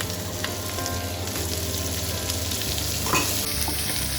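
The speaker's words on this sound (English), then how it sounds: "Now I'm going to add the paneer cubes." Paneer cubes stir-fry in sesame oil for Indo-Chinese chilli paneer, a loud, even sizzle up close, with a brief scraping stir near the end.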